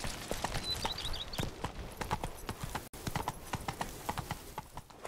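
The horse Roach trots in The Witcher 3, a rapid, even clip-clop of hooves close by, continuing steadily for several seconds with quiet background ambience.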